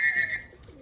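A racing pigeon arriving at its home loft after a 182 km race from Cabanatuan, Nueva Ecija, with a short, bright whistling call and a soft fluttering coo that fade within a second.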